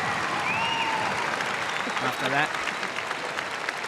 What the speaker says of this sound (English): Crowd's gone wild.